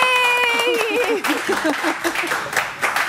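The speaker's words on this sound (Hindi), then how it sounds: "टीम ताली बजाए।" A studio team on a TV morning show breaks into hand clapping right after a sung line, a burst of scattered claps from several people that continues under a voice.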